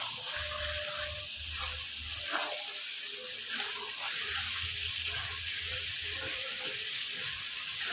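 Chicken that was fried earlier is added to potatoes in a pan, giving a continuous hiss of frying with a watery, tap-like wash of noise, occasional clinks, and no speech.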